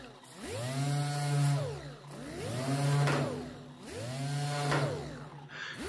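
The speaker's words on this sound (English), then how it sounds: "this is a 36 grit on an 8 inch orbital" An 8-inch orbital sander with a 36-grit disc blends auto body metal, its motor whining up and down in three rising and falling passes with a steady droning hum, loud and close with no talking.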